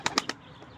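A tumbler pigeon taking flight, with three quick loud wing claps close by, then fading flutter and quiet.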